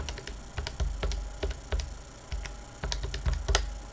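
Buttons pressed on a calculator while entering figures for a math problem, a quick irregular run of close, light plastic clicks that continues steadily without pause.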